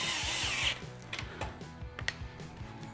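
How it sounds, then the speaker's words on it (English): A power tool tightening lower radiator support bolts on a 2020 Can-Am Maverick X3, a close whirring burst followed by a rapid rattling ratchet of repeated clicks. "Now we're gonna go ahead and finish tying up these two lower radiator support bolts."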